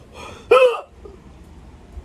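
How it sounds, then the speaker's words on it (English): A single sharp human hiccup, loud and close to the microphone, with a soft breath before it and quiet afterward. "Sorry about that, I got hiccups."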